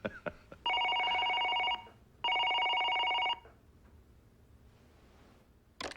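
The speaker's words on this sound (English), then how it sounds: "Congressman Stratton is on the phone" An old-style telephone bell in a film rings twice in long, loud metallic trills separated by a brief pause, followed by quiet room tone and a faint click.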